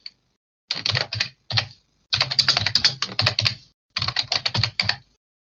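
Close typing on a computer keyboard while entering Ukrainian text in an AI image editor lesson: several runs of rapid key clicks separated by short pauses, with no talk.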